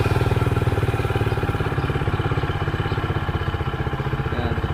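A RUSI Classic 250 Fi motorcycle engine idles close by with a steady, even, rapid low-pitched thumping that stays constant throughout and carries no talk.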